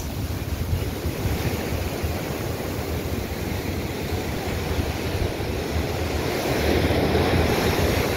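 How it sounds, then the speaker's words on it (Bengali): Big ocean waves crash and roar continuously on the beach at Puri, a loud, steady surf wash with wind buffeting the microphone and no voices. "কত বড় বড় ঢেউ দেখো।"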